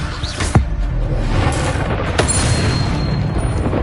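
The Expelliarmus spell is cast in the PS5 game Hogwarts Legacy, giving a close, loud whoosh and boom of magical impact over a rumbling background of game effects.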